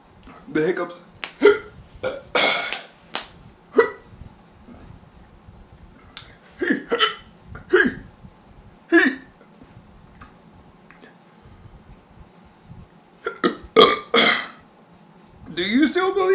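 Sharp hiccups come one after another after eating the Paqui One Chip Challenge hot chip, close and loud, with breathy throat sounds mixed in across a long stretch.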